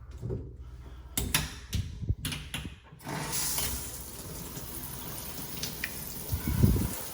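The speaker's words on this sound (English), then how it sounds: "That's what it looks like when you spray water on it." Water sprayed from a hose or sprayer onto glass shower doors, a few clattering knocks and then a steady hissing spray lasting several seconds, close and fairly loud.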